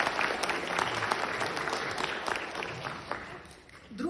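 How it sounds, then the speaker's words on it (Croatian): An audience at a pop rock vocal competition applauds a young boy singer: a brief burst of crowd clapping, fairly distant and moderately loud, that fades out near the end. "Molim jedan aplauz za njega"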